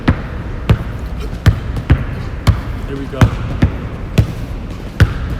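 Basketball dribbled during crossover and behind-the-back drills in a workout, bouncing in sharp, regular thuds about twice per second with a few faster pairs, close by, with a coach's voice talking over them.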